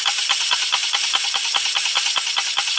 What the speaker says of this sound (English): Good little steam engine or compressed air engine.